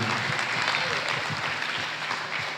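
A crowd claps steadily for a couple of seconds, a dense, even patter of applause at moderate volume.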